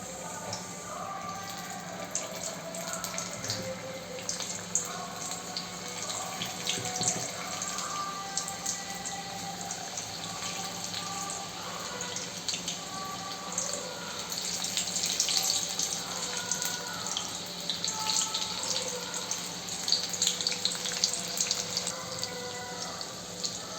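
Corn bhaji batter frying in hot oil in a kadhai, a steady close sizzling hiss with faint bubbling crackle throughout, no speech.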